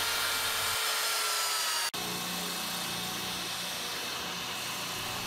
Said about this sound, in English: I'm just going to get close with the belt sander, not all the way.